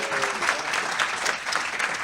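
Steady audience applause at a live investor summit held aboard a cruise ship, dense even clapping filling the whole stretch at moderate level, with a faint voice briefly underneath near the start.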